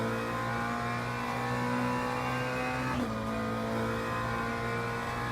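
A Porsche race car engine in the racing game Le Mans Ultimate drones steadily at high revs, loud and constant with a brief gear-shift dip midway, and no talking.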